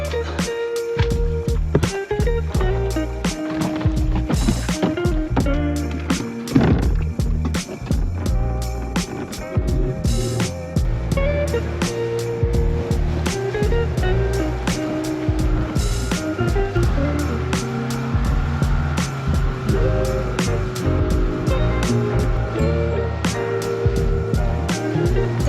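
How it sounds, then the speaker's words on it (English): A dinghy with a fast outboard engine riding across the water, a constant motor drone under repeated hull slaps and thumps against waves, with wind rushing throughout. "as we've got a fast dinghy engine now"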